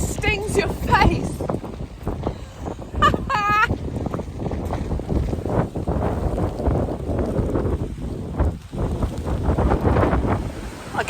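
Strong gusty wind buffeting the microphone on an open hilltop of the South Downs, a loud constant rumble with a person's voice heard briefly over it.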